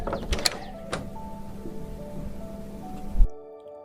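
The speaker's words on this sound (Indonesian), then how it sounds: "Saya tak buka pintu dulu." A door is opened during a stage opera performance. A few sharp mechanical clicks and knocks of the handle and latch sound over a steady hum, with a final louder clack before the sound cuts to near silence.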